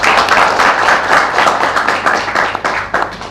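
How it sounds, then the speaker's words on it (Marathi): An audience claps together at a Marathi theatre event promoting the play Shivtandav, a steady dense patter of many hands held at even loudness for a few seconds, close and continuous with no talking. "त्यामुळे साहेबांसाठी सगळे टाळ्या एकदा वाजवा अशी माझी इच्छा आहे"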